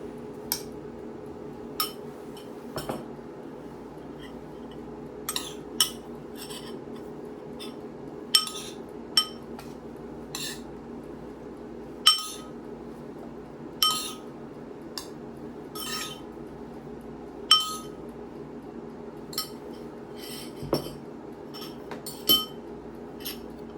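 Utensils clink softly and intermittently against bowls as coconut jasmine rice and farro are scooped into two separate vegan lunch bowls, with sparse taps spread across a quiet room tone and no talking.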